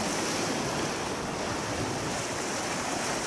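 Ocean waves surge and wash steadily at a night fishing spot on the shore, a loud continuous roar of surf close by with no voices.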